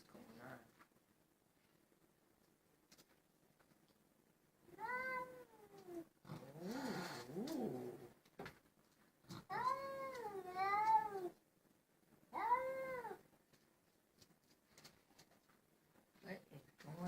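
Cats fighting outdoors in the snow, with several drawn-out rising and falling yowls and caterwauls broken by pauses, fairly close, while a person makes a brief exclamation and quiet talk surfaces now and then.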